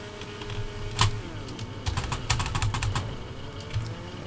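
Computer keyboard keys tapped in quick irregular bursts while driving a car in Gran Turismo 5, the clicks standing out over a steady low game engine hum without any talk.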